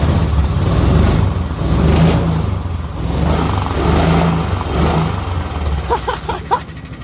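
A Duromax 440cc engine swapped into a Kawasaki Mule utility vehicle revs up and down in loud, close surges over a steady rumbling idle, with a few brief higher mechanical squeaks near the end.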